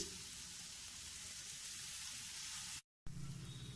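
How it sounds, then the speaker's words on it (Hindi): Stuffing masala with minced meat, sugar and lemon juice, sautéed for stuffed achari karela, gives a steady close sizzle and fry throughout, cut by a brief silent gap near the end before the sizzling resumes. "इसको साथ में सबको सौते करेंगे ताकि मसाला अच्छी तरीके से मिल जाए।"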